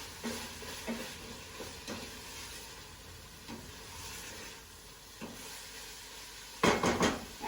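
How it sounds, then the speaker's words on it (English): Chopped coriander is stirred into a methi and hamburger mixture in a pot, giving a soft simmering sizzle with intermittent scraping strokes and a louder burst of stirring and clatter near the end. "I'm going to add the chopped coriander. Going to mix that in."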